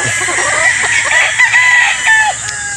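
A white gamefowl rooster crows at a game farm in Batangas, a loud near call with harmonic strands, while other birds cluck and call faintly around it.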